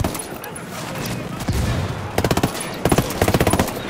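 Bursts of automatic gunfire in Ghost Recon Wildlands, several rapid volleys close and loud against a busy game soundscape, with a voice calling out among the shots.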